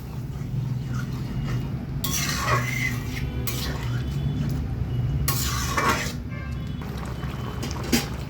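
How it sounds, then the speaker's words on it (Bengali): Eggplant pieces are stirred in a wok with a little added water, with a few scraping bursts of a spatula against the pan over a steady low background hum. "হালকাভাবে নাড়িয়ে নেব।"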